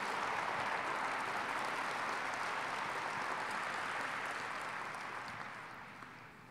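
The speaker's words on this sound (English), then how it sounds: "So can we give all the students a big round of applause for being here?" Audience applause for students at a State of the Port event, a long even roll of many hands clapping at moderate distance that slowly tapers off near the end.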